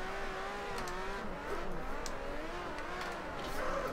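Nissan 370Z engine revving and accelerating while drifting in the Assetto Corsa racing game, a steady moderate whine rising and falling in pitch, with no talking.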